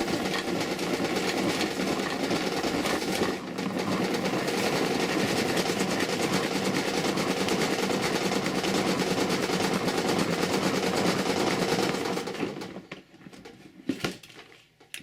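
An old hand-cranked vegetable strainer being turned with ice inside gives a steady, loud grinding rattle for about twelve seconds, then tapers into a few scattered knocks.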